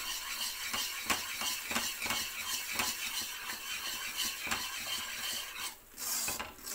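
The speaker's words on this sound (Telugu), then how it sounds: "ఈ నూనె నెయ్యి. సో దీన్ని ఇట్లా కలుపుతూనే ఉండాలి." Gram flour being stirred in hot oil and ghee in a pan to make mysorepak, producing repeated scraping clicks of the spoon over a soft, continuous sizzle, close and without talking.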